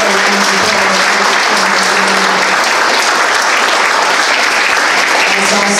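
Audience applause at a mayoral candidate forum in Norcross, Georgia: steady, dense clapping from a room full of people, loud and sustained for the whole span with no voices over it.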